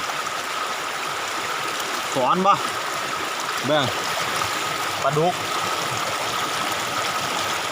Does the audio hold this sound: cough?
no